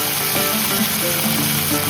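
Curry leaves sizzling in hot oil while puliyogare is being prepared, a dense close crackling fry with small pops throughout, no voices.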